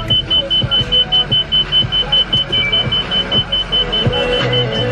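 A car's seatbelt reminder chime beeps in a loud, steady, rapid repeating pattern inside the vehicle over a low engine hum, with no talking.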